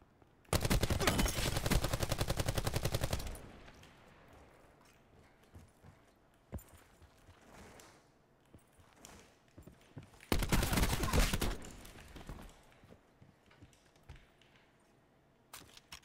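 Rapid automatic gunfire in the Call of Duty Black Ops 4 Blackout battle royale game crackles in two loud bursts of a few seconds each, separated by quieter ambient game noise with occasional faint shots.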